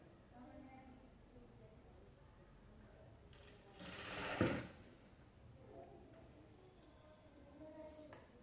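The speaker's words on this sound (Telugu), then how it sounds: "ఇక్కడ ఈ ఎడ్జ్లో వేస్తున్నాను కుట్టు అనేది" Sewing machine stitching along the edge of a dress while attaching a zip: a faint, brief mechanical whir rising in the middle, with quiet talk around it.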